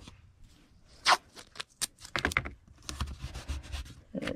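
Tape pulled and pressed onto a bagged and boarded magazine: close, crisp tearing and crinkling bursts, a few sharp snaps, then rustling plastic handling in an uneven series.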